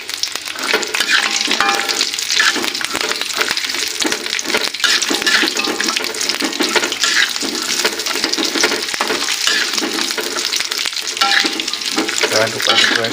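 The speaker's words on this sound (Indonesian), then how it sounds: "langsung kita goreng cabenya." Sliced chilies fry in hot oil in a pan for pecel, a loud continuous crackling sizzle with the scrape of stirring throughout, close and steady with no talking.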